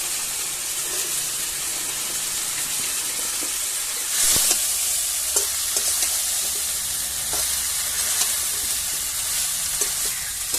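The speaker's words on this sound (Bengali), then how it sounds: "মশলাটা আমার কষানো হয়ে গেছে, আমি এবার পেঁয়াজের কলিটা দিয়ে দিচ্ছি" Onion shoots hit spice masala already cooked down in a pan for a Bengali tangra fish dish, giving a continuous loud hissing sizzle with a brief louder burst and occasional stirring clicks, no speech.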